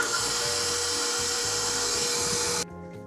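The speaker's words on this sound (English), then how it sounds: "we'll raise the bowl again and just mix until combined" Stand mixer whirring at a high, steady pitch while combining wet pumpkin crinkle cookie batter, loud and constant before cutting off abruptly near the end to leave a quiet room tone.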